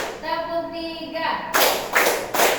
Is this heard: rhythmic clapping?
yes